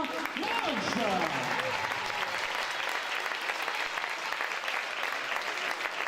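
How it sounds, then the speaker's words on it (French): Crowd applause at a women's elite championship volleyball match in a sports hall, a sustained wash of clapping with a few shouts and cheers early on, somewhat distant and even throughout. "je voudrais aussi qu'on applaudisse très très fort notre entraîneur, notre coach Colorine"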